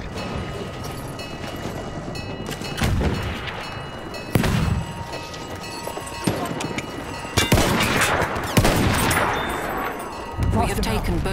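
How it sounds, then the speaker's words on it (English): Enemy artillery barrage in the Battlefield 1 open beta Rush mode, with repeated heavy booms and blasts landing at irregular intervals over a constant battle din, while voices talk throughout. "Wait for the enemy artillery barrage to stop firing."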